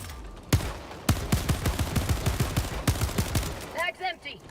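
Pistol gunfire in a video game, a quick burst of sharp shots followed by a steady rapid run of about a dozen more close-up reports, then a few electronic chirps near the end.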